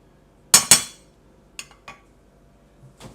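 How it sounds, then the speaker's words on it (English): A casserole dish knocked and scraped while ground meat is spread across its bottom for shepherd's pie: two sharp close clinks, then a few lighter taps and a faint final knock, with no talking. "Put it in a casserole dish. Just spread the meat down at the bottom."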